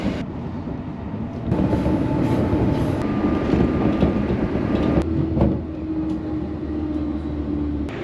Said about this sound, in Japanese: 電車は塩尻駅に到着します。